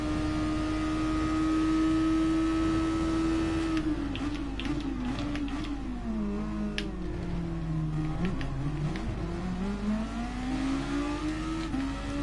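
A Super Formula race car engine in the GT Sport video game at the Red Bull Ring, a loud sustained drone that holds steady, then drops and wavers in pitch through downshifts, with scattered clicks and no talk.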